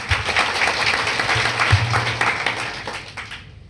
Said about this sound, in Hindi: एक बार चाहूंगा इस प्रोडक्ट के लिए जोरदार तालियां दोस्तों।